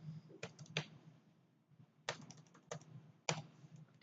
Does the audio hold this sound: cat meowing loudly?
no